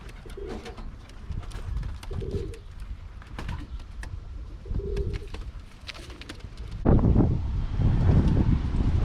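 Young roller pigeons perched on top of a box coo in repeated soft low bursts, close by, with wind buffeting the microphone and rustling growing louder toward the end.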